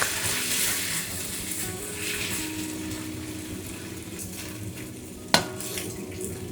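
Pork and mushrooms stir-frying in a wok over medium heat give a soft, steady sizzle with faint stirring scrapes, and one sharp utensil clack near the end.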